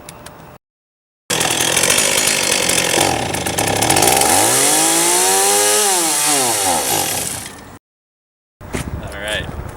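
A chainsaw revs up loud and close, its engine note bending up and down as it bites into a foam boat collar. Brief gaps break the sound, and a voice can be heard near the end.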